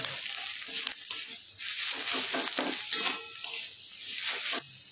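Chili, cumin, turmeric and coriander powders being stirred in a hot pan while preparing a homestyle rohu fish curry, a steady sizzle with repeated scraping strokes of a spatula, close and fairly loud, no voices.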